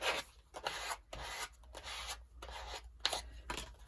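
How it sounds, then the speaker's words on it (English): A plastic card rubs firmly over paper on a Christmas journal page, burnishing it down in repeated close, scratchy strokes with short pauses between them. "Just burnish that down."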